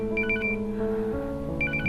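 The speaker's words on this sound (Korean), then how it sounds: "가방에서 수진의 진짜 휴대폰이 울리는데요" A mobile phone rings inside a bag in a domestic drama scene: two bursts of a bright trilling electronic ringtone separated by a short pause, over a steady low hum and music-like tones.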